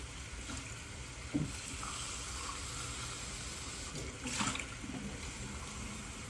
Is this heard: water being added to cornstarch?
yes